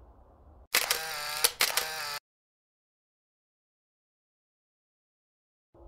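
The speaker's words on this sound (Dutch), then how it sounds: "Even nog een fotootje maken, want de camera hou ik haast niet stil zo" Camera shutter firing during an outdoor nature outing while deer with large antlers are photographed; a loud burst of quick clicks and mechanical whirring lasts about a second and a half, then silence.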